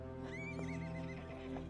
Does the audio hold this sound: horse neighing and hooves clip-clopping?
yes